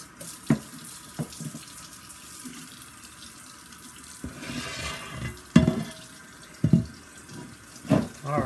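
Water runs steadily from a tap into a sink during cleanup after lapping a Narutaki Imanishi natural whetstone with SiC powder, with occasional knocks and splashes rising over the continuous flow.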